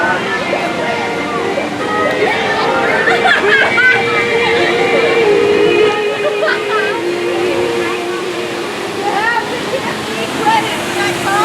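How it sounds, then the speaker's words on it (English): A waterfall at Kings Dominion amusement park rushes steadily throughout, a broad constant roar of falling water with a crowd chattering and talking in the background. "Here we have a nice waterfall"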